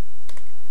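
A quick burst of two or three computer keyboard keystrokes while writing C code, close and crisp, with no talking.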